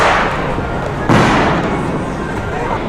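Firecrackers and fireworks crackle and thump densely during the Diwali festival in New Delhi, with a loud burst partway through, all under a continuous roar of crowd noise.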